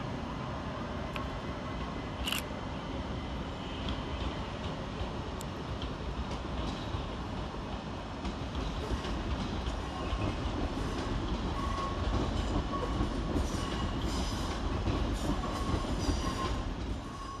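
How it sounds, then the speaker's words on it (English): A Southern Railway Class 377 electric train, unit 377-151, moves through Brighton station with a continuous rumble, rhythmic wheel clatter over rail joints and occasional faint squeals, growing slightly louder partway through. "your final train of the session is 377-151, working the 1730 Southern Railway service to Southampton Central"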